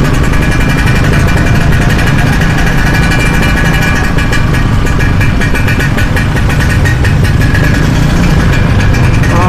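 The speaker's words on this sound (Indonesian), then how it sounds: "Ada suara berisik, maaf, samping aku Vespa." A Vespa scooter engine runs close by, a loud, constant buzzing motor drone with a fast pulsing rhythm that dominates throughout, heard outdoors at night on a street.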